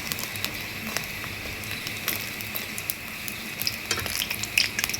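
Leftover rice bondas deep-frying in hot oil give a steady, close sizzle and bubbling crackle throughout, with small scattered pops and spits rising slightly toward the end.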